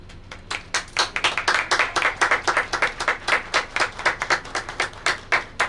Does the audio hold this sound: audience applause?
yes